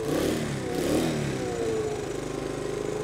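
An overhauled motorcycle engine, fairly warm, revs up and then holds a steady, slightly uneven rev close by, with no talking.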